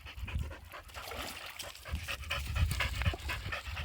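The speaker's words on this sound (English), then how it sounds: "Oh, what a dog." A dog pants rapidly and steadily up close outdoors, with faint trickling water in the background.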